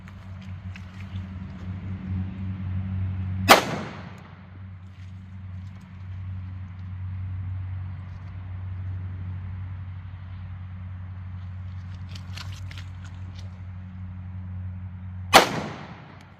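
Two loud, sharp 9mm gunshots from a SIG V-Crown pistol fired through a hoodie and t-shirt into a ballistic gel block, several seconds apart, each standing out against a steady low background hum.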